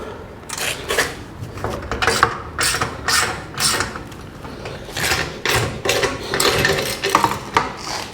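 A ratchet tightens bolts on a trailer spare tire mount, its quick, close clicking coming in repeated bursts of strokes with brief pauses, and no talking.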